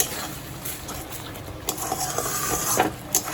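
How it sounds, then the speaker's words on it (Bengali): Butter chicken spice paste sautéing over high flame, with a steady sizzle and quick stirring scrapes and clinks of a spoon against the pan, close and clear, without speech. "এই মশলাটা যতক্ষণ না অয়েল রিলিজ করছে ততক্ষণ পর্যন্ত কষবো"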